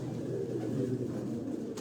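Meerut Gola pigeons cooing on a rooftop, a continuous low, soft burbling coo close by with a brief faint sound near the end.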